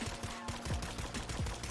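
A Sykov automatic pistol is fired from the hip in Call of Duty Warzone, with rapid bursts of sharp in-game shots rattling in quick succession at moderate loudness over a busy game soundscape.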